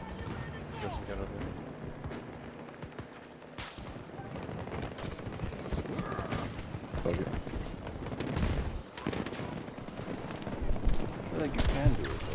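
Scattered shots from an enemy firing on the player in a sniper-focused shooter game, mixed into a dense, busy soundscape with excited voices talking over much of it.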